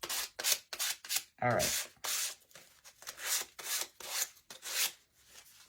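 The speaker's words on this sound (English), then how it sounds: "Sand them all." Wooden scarecrow shelf-sitter pieces being hand sanded, a rhythmic series of close, scratchy back-and-forth rasping strokes, with a brief spoken word partway through.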